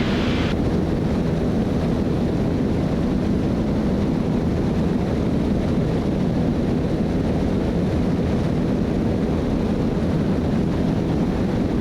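A small airplane's piston engine cruising in flight with the RPM pulled back, a steady, loud cockpit drone mixed with wind rush that holds unchanged from start to finish.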